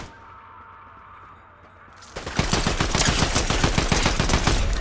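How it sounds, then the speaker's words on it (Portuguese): A video game gun opens up after a quiet lead-in, firing a sustained, rapid automatic burst of loud, evenly spaced shots that continues to the end. "Que ruim de atirar com isso aqui"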